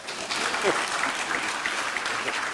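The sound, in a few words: audience round of applause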